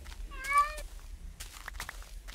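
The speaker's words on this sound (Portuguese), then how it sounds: "Olha, outro gato." A single clear meow from a cat in the game Minecraft rings out early, rising then falling, followed by quieter scattered clicks and soft rustling sounds in an otherwise quiet scene.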